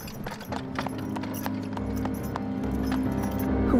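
A horse's hooves clip-clop at a steady ride pace through the woods in the House of Caravan video game, close and clear against a low ambient hum.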